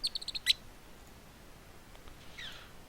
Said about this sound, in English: there's just gonna be a bird on my shoulder this stream now